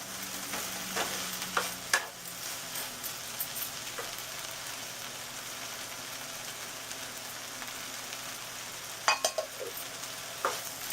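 Spicy okra (vindi) masala with hot chili pepper cooks in a pan, giving a steady, close sizzle with a few louder clinks and scrapes of stirring near the start and end. No one speaks.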